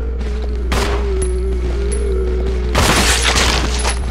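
Gunshots in Resident Evil Zero aimed at zombies, two heavy booming bursts over a steady droning game backdrop with faint metallic pings, loud and close.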